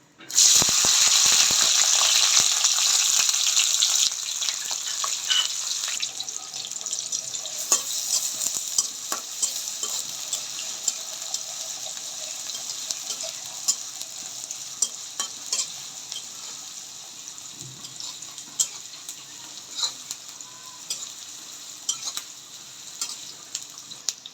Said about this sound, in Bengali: এখন আমি কড়াই তেল দিয়ে দিয়েছি সেই দুইটা পেঁয়াজ কয়েকটা কাঁচামরিচ কেটে নিয়েছে দিয়ে দিচ্ছি